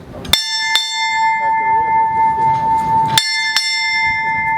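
A ship's bell at a U.S. Navy change of command ceremony is struck four times, in two quick pairs of bright, ringing strokes with long sustained tones, while faint voices murmur in between.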